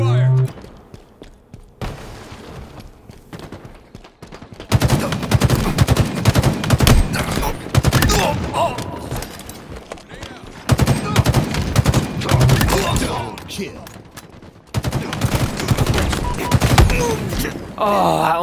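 Bursts of Halo Infinite multiplayer gunfire, loud and close, come in sustained automatic volleys separated by short pauses, with in-game voice callouts and a player talking around them.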